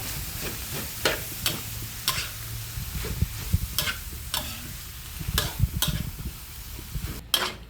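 Pointed cabbage and minced pork being stir-fried in a pan, a steady sizzle broken by sharp, regular scrapes and clacks of a spatula roughly once a second, close and fairly loud with no talking.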